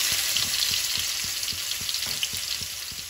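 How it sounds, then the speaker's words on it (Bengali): Garlic paste frying in hot oil in a kadai while a rui fish and tomato curry is being cooked: a loud, dense sizzle with a regular tapping beat of stirring, close by and alone. "তেলের মধ্যে দেবো রসুন কোড়া"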